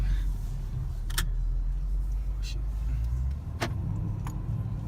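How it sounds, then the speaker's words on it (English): A loud car idles and rumbles close by with a steady low engine drone, broken by a few brief sharp clicks or clanks, while people talk quietly nearby. "these cars are pretty damn loud"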